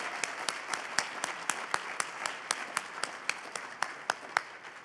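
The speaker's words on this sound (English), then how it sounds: "give one big round of applause to everyone" Steady applause from a crowd at a school district Black History Month celebration, a continuous wash of clapping with a few sharper, louder claps standing out, no talking.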